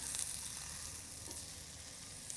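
Steaks sizzle in a pan just after being flipped, giving a steady, close, low-level hiss with occasional small pops.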